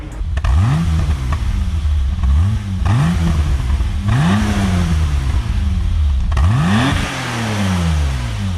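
A 1991 BMW E30 325i engine with a catback exhaust revs repeatedly, each blip rising sharply then falling away, about six throaty revs from a deep exhaust, close and loud.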